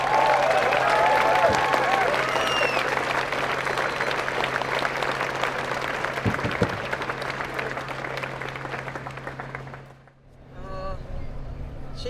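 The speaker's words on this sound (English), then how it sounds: "So can everyone give them a big round of applause?" A large outdoor crowd claps steadily and loudly to honour Wurundjeri and Bunurong elders at an Invasion Day gathering. The ovation fades near the end, breaks off briefly, then resumes under a voice.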